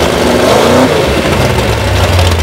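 A drag racing car engine fires up and revs, a loud rough burst of engine noise rising and settling into a throaty idle.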